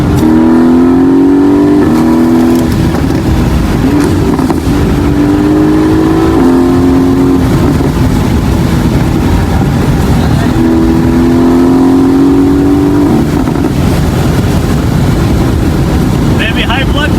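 A BMW X3 M40i SUV drives and accelerates, its engine climbing in repeated rising pulls through the gears under steady road and wind noise, with people talking over it throughout.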